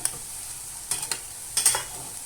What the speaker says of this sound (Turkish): Şöyle bir arada bir karıştıralım patatesimize.